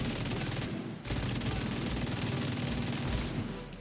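Enemy gunfire in The Division 2, a dense, loud barrage of rapid automatic shots, with a brief lull after the first second before the relentless volley resumes.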